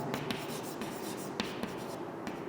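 Equations being written on a classroom board make quick scratchy strokes and sharp taps as each symbol is marked, close and fairly quiet.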